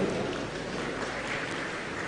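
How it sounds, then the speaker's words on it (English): Steady audience applause at a national conference session, a dense, even wash of clapping from a large crowd that holds for a couple of seconds. "Let's clap for Prof."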